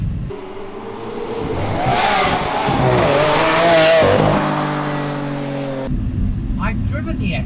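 Heard from inside the cabin, a Lamborghini Aventador SV engine swells and pulls up through the revs, a loud rising roar that peaks and then eases off with a shift, while the driver talks over it.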